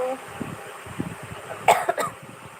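A woman coughs a few harsh times in the middle of a live chat session, indoors, with her talking around it.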